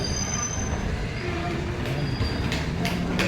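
Wheels squeal loudly and continuously as the Kanchankanya Express pulls into New Mal Junction, a dense metallic rumble with high screeches, up close.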